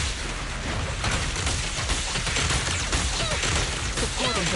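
Sustained suppressing gunfire from a combat attack in Zenless Zone Zero on PS5, heard as a loud, dense, continuous barrage of rapid shots and impacts under busy game effects.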